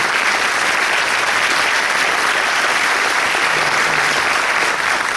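Sustained applause from an audience at a Paraguayan harp concert, a dense, even roar of many hands clapping that holds steady and loud for the whole stretch.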